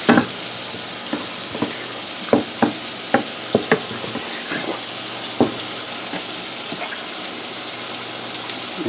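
Butter and olive oil sizzle steadily in a pan for risotto, a close, constant frying hiss punctuated by repeated clicks and knocks of a utensil stirring against the pan.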